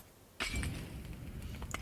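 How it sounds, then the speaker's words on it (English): A Molotov cocktail bottle smashes in the video game PUBG, a single sudden glass shatter followed by a short spray of tinkling fragments over a low background hum. "We have just heard the glass smash."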